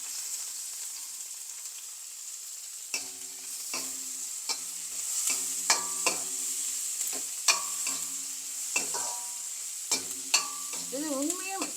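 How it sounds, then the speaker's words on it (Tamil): Onion, green chilli and curry leaves frying in oil for a bitter gourd fry. A soft sizzle runs under repeated spoon clanks and scrapes against the pan, with no one speaking. "வெங்காயம், பச்சை மிளகாய், கருவேப்பிலையெல்லாம் நல்லா ஃப்ரை ஆகட்டும்"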